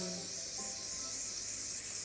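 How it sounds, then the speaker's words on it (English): A continuous hiss of coconut oil aerosol spray held down for about two seconds, close and fairly soft, with no voices. "I'm just going to spray this dish."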